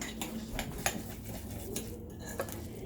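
A spoon clinks and scrapes against a bowl in a few irregular strokes, close and fairly quiet.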